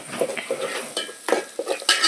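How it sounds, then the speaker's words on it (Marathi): A spoon scrapes and clinks in a pan of hot oil as a Kokani spice tempering (phodni) sizzles. The stirring strokes come in a quick, irregular rhythm up close, with no voices. "तुम्ही बघू शकता, ही किती छान फोडणी झाली आहे."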